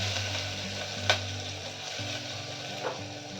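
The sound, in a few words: mustard seeds, hing and curry leaves sizzling in hot oil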